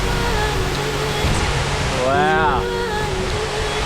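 A waterfall in the Australian outback pours in a constant, loud, dense rushing roar with no breaks, while a voice briefly exclaims over it.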